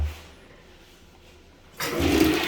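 A budget toilet, its tank filled to the highest water level, is flushed: after a quiet lead-in, a loud rushing, swirling gush of water starts abruptly and keeps roaring to the end, close by.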